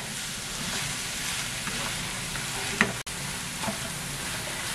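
A mixture for Iftar snacks fries in a pan while being stirred, a steady close sizzle with occasional scraping clicks and a brief thud near the end, no voices.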